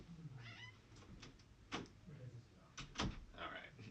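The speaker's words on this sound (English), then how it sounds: "had to let my cat out" A cat meows while a door is opened to let it out, with a few soft thumps and clicks of the door close by, all quiet.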